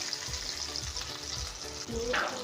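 Chicken shami kababs frying in oil with a continuous soft, even sizzle and faint crackle, moderately near, with no talking.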